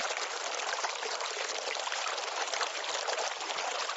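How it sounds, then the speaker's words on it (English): A brook running behind a house, giving a steady, continuous rush of flowing water that stays even and fairly loud throughout, with no voices. "We found the waterfall. It's a brook running behind the house."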